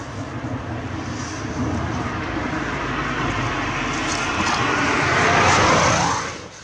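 A Citroën 2CV engine revs hard, a loud, buzzy, steady roar that builds and rises in pitch toward the end before cutting off sharply, with no talking.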